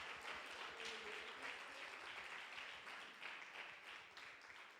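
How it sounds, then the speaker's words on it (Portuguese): A church congregation applauds steadily, the clapping fairly faint and distant, with a few voices mixed in. "Vamos aplaudir Jesus pela vida deles, vamos?"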